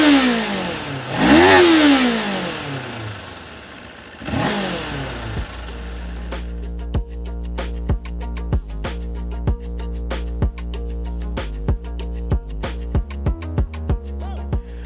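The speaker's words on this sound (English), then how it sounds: "it's quite loud when you take it up to the red line" A 2024 Kawasaki Ninja 500 motorcycle engine revs up twice in loud rising sweeps toward the red line, then falls back to a steady hum broken by a long run of sharp rhythmic clicks and pops.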